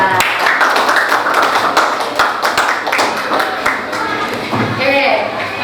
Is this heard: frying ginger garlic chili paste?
no